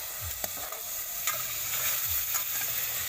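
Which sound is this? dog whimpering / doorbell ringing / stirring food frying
stirring food frying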